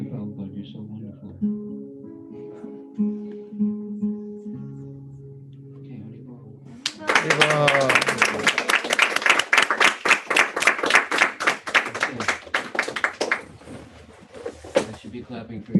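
After a stretch of Hare Krishna chanting, a burst of fast, steady clapping breaks out at a Vyasa Puja gathering. It is sharp and close, runs for several seconds, then thins out into a few final claps.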